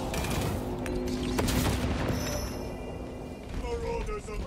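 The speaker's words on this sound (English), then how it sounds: "Frag grenade out." A frag grenade goes off in the Space Marine 2 video game with a sharp, booming blast amid continuous gunfire and mechanical battle noise. Someone is talking over the combat.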